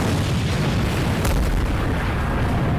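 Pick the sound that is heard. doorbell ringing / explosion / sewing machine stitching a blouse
explosion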